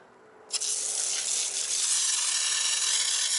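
An IK9 foamer fitted with a green nozzle bursts into a sudden, loud, continuous hissing spray that holds steady for several seconds, with no talking.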